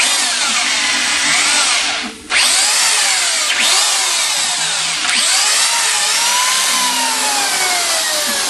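A power tool grinds and cuts into a Cadillac Northstar engine block, a loud continuous high whine with slight pitch shifts and one brief dip as the tool eases off, no talking.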